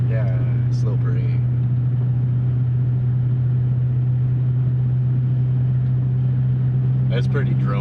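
Steady low exhaust drone from a 1997 Subaru Impreza turbo while driving, a constant hum running through the whole stretch with faint voices briefly at the start and end.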